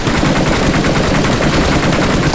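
Sustained automatic gunfire in PUBG Mobile is heard as a loud, dense burst of rapid shots that continues without a break for over two seconds, very close and with no talk.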